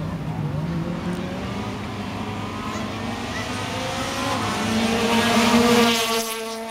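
A Mark II Ford Escort rally car engine roars and revs up as it races by at speed on a street stage, its pitch rising then cutting off; loud and close.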